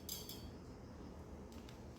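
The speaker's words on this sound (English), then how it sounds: "Add this in the water, stir it nicely." A spoon clinks against a glass while stirring salt into a glass of water, a few quick light metallic taps at the start and again near the end, soft and close with no talk.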